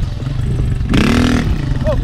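Motorcycle engine revving hard for a wheelie at a wheelie practice spot, a sudden rising roar of about half a second over steady engine rumble, with voices nearby.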